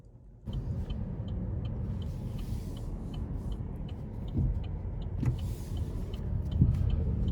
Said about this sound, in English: take this 2020 Malibu RS out on the road for a test drive